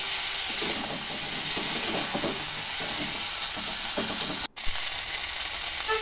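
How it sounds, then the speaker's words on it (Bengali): Cauliflower fries slowly in oil over low heat in an open pan, with a steady close sizzle and hiss, a few soft stirring scrapes, and one brief dropout near the end. "ফুলকপিগুলো দিয়ে আমি হালকা আঁচে আস্তে আস্তে ফুলকপিগুলো ভেজে নেব"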